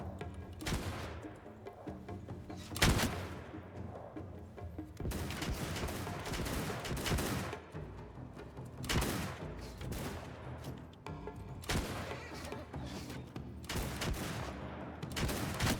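Gunfire crackles through a battle in the samurai-era strategy game Shokuho, with loud volleys and bursts of shots coming every few seconds over a constant din of fighting.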